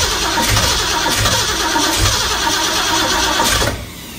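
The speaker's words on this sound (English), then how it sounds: "Keep cranking." An old engine on the Big Hoss, fresh from 30 years in a museum, cranks over steadily and loudly with a rhythmic churning labour, nearby, then the cranking cuts off near the end without firing.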